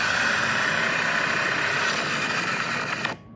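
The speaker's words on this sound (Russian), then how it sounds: "Гляньте, прикиньте, Лера на мотоцикле едет." Small motorcycle engine droning steadily at moderate volume through a phone video message while riding, with a buzzy mechanical hum that cuts off abruptly near the end.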